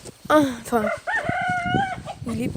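A rooster on a French poultry farm crows several times in close, loud bursts, the calls separated by short pauses and ending with a final crow.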